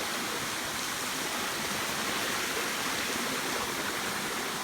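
Water rushes steadily at Jet Kot waterfall and its stream in Thailand, a dense, constant roar close by with no talk over it.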